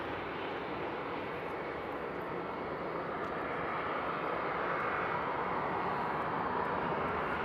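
An Edelweiss airliner at Frankfurt Airport on a frosty night gives off a steady, dense engine roar that builds slightly in loudness, heard alone without voices.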